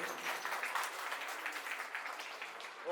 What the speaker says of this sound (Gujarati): તાળીઓથી વધાવી દઉં